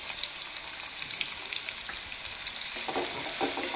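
Chopped onion and cumin seeds fry in hot oil, giving a continuous, dense crackling sizzle with fine popping that grows slightly busier toward the end; no voices.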